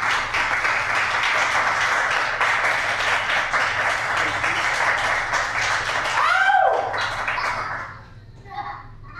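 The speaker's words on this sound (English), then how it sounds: "Let's give Diallo a great round of applause." Sustained crowd applause at a poetry reading in a library, loud and steady clapping filling most of the stretch before tapering off near the end, with a short rising whine and a few faint sounds after.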